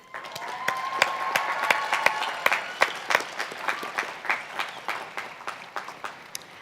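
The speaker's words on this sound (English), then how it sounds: "Let's take a moment and offer them a round of applause" Applause at a college commencement ceremony, starting with distinct nearby claps, swelling into a fuller round from the audience, then thinning out toward the end, with some crowd murmur underneath.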